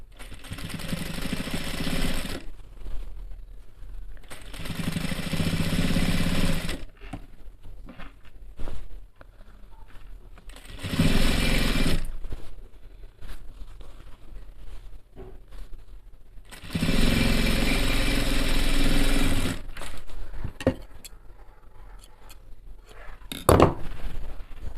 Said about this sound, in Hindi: इसी सिलाई के ऊपर हमें एक सिलाई मारनी है।